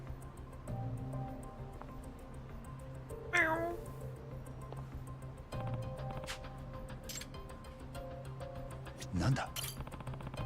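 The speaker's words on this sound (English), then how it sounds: "I think it's the cat, though." A cat meowing in the video game Lost Judgment, two short cries heard a few seconds apart under steady game music and ambience, with soft clicks and ticks between them.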